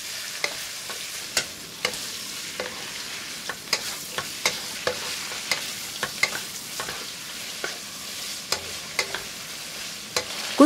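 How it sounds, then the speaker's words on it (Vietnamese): Squid stir-fried in a pan with sauce, a steady sizzle broken by frequent sharp clacks of the utensil scraping and tossing, close and loud with no talk. "Đảo đều cho mực thấm gia vị khoảng 1 phút."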